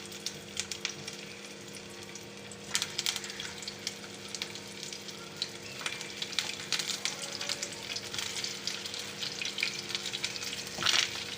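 Fish gola kebabs shallow-fry in hot oil over a low flame, a steady crackling sizzle with scattered sharp pops and a few louder bursts, close up with no talking.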